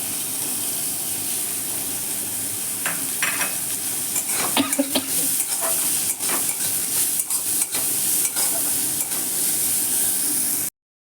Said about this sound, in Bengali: পেঁয়াজ আর রসুন আমার ভাজা হয়ে গেছে